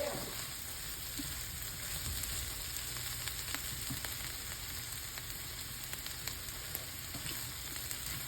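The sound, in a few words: bitter melon vegetables frying in pan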